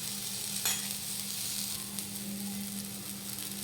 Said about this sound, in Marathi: आता आपण ते पूर्ण असं मिक्स करत आहोत